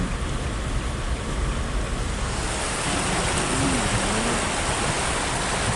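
Floodwater surges against a car's engine while driving through a flooded street around a house, a loud steady wash of rushing, splashing water throughout.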